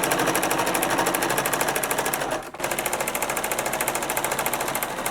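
Sewing machine back-stitching a seam on a fabric face mask, a fast loud mechanical chatter up close that halts briefly midway, then resumes at the same pace, with no voices.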